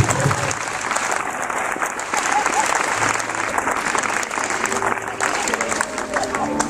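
A church congregation at a spiritual seminar bursts into sustained applause, dense and even clapping that carries on for several seconds, with voices and shouts audible beneath it.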